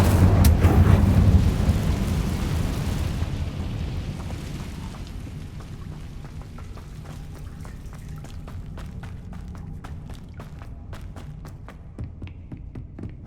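The Incendio fire spell in Hogwarts Legacy bursts with a loud, low roaring whoosh that fades into a long rumble, then scattered crackling pops as the flames die down.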